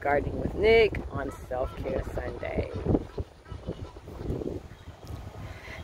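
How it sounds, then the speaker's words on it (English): Wind gusts buffet the microphone in an outdoor Houston garden, a rough low rumble that rises and falls beneath someone speaking close by. "it's very, very windy out here."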